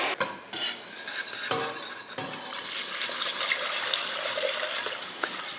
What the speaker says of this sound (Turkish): yaparken de devamlı karıştırıyoruz çünkü tencere sıcak